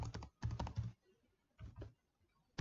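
Bursts of computer keyboard typing as program code is entered, quick clustered keystrokes in two groups with a pause between, close and fairly quiet, with no talking.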